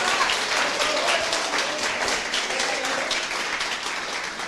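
A church congregation applauds steadily, a dense wash of many hands clapping that carries on without a break and fades a little toward the end.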